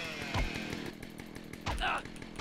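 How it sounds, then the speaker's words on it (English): A chainsaw snarls in GTA San Andreas, its buzzing engine revving up in two louder bursts amid game noise, with a voice talking over it. "He's got a chainsaw."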